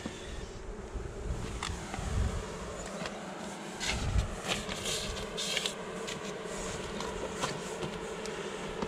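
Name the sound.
honey bees buzzing at a beehive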